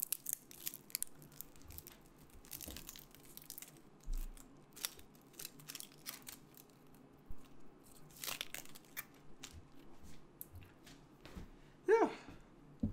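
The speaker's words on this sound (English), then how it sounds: "We got a lot more onions to cut through" A knife chops onions with quiet, irregular crunchy cuts and scrapes, some louder strokes standing out against a soft background.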